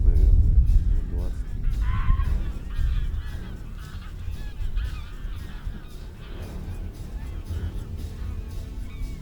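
A flock of about twenty to thirty wild geese honks continuously outdoors during a goose hunt, a dense chorus of overlapping calls with a low rumble of wind or movement underneath and some voices mixed in.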